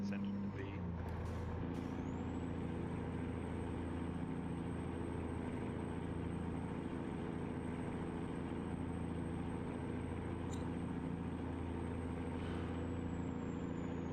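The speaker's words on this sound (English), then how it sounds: "I love listening to the sound of this truck." A semi truck's engine idles with a steady low rumble in American Truck Simulator, with a short hiss of air brakes near the start and a faint high whine throughout.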